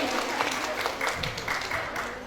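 Audience clapping at a meet-and-greet with an author, lively applause with voices and murmuring mixed throughout the crowd.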